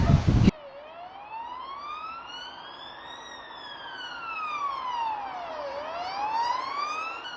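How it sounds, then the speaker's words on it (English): An ambulance siren wails in a long high rise and fall, approaching and receding along a road with a steady rushing background, after a brief loud burst at the start. "The siren wails a high pitch from half a mile down the road."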